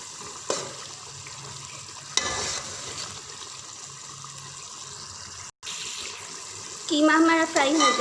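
Water poured into minced keema frying in a pot for keema pulao, a steady sizzling hiss with a splashy burst early on and more bubbling near the end, where a brief voice also sounds.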